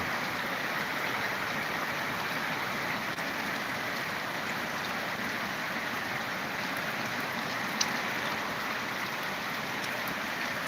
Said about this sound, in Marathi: बघा असा पाऊस चालू आहे